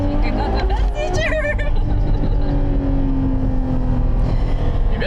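A Ferrari engine hums steadily from inside the cabin while driving, a loud continuous low drone with rising and falling tones, overlaid by people talking.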